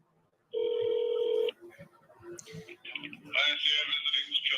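A telephone ringback sounds on a call to a correctional facility, one steady electronic ring tone lasting about a second, followed by a muffled voice answering on the line.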